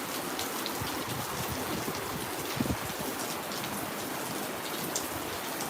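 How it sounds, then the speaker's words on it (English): Steady rain falls after a storm, a dense, even hiss of drops on surfaces with faint trickling, continuous and fairly close throughout. "It's definitely raining."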